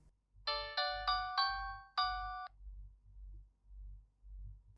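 A Jio Karbonn Bharat K1 4G feature phone plays its boot-up tone at power-on: five quick bright chime notes in a rising melodic run, clear and close, then the phone falls silent over a low hum.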